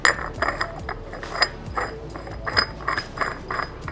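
Metal threads of a small pole extension being screwed onto the base of a budget pole-dancing pole, giving repeated close clinks and ratchet-like clicks in an uneven rhythm.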